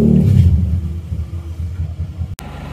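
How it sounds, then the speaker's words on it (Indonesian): A diesel engine in an Isuzu Panther runs after a tune-up for low power, a low rumbling idle that swells briefly at the start and then settles into an uneven, throbbing drone. "Mesin kita hidupkan ini akan kita coba di jalan raya untuk melihat hasilnya."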